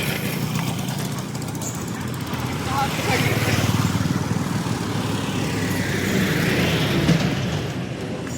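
Steady motor vehicle traffic, likely tractors or trucks, streams past on a narrow rural road in the Narmada region, a continuous engine rumble that swells as vehicles draw near around the middle, with faint talk beneath.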